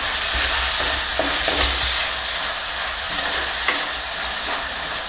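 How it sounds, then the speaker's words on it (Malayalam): Onions sautéing with salt in a clay pot, giving a steady close sizzle broken by a few sharp scrapes and clinks of stirring. "സവാള വാടി വരാനായിട്ട് ഞാൻ കുറച്ച് ഉപ്പ് ചേർത്ത് കൊടുക്കുന്നുണ്ട്"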